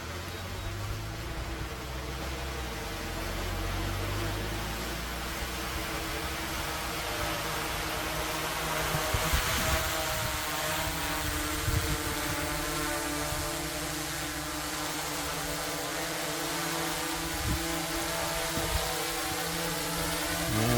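A DJI Air 3 drone descends and lands after an altitude test. Its propellers give a continuous close, high whining buzz with shifting pitched tones, and a few soft bumps come near touchdown.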